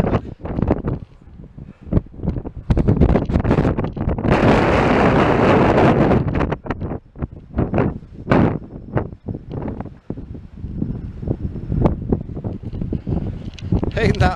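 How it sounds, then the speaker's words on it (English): Strong wind gusts buffet the microphone on an open hilltop, roaring loudly in bursts and then dropping back to a ragged, fluctuating rush. "See if I can get out of this wind"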